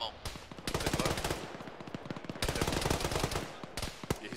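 Machine gun fire in the video game Arma 3, several long rapid bursts of close, loud gunfire separated by short pauses, with the bursts at an even, rattling pace.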